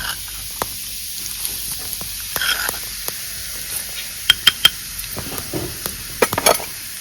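Split mustard seeds go into hot oil with asafoetida and sizzle with a faint steady hiss. Sharp clicks and scraping taps of a spoon against the pan cut in, some in quick bursts, close by and with no voices.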